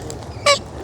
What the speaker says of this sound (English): squeaky squawks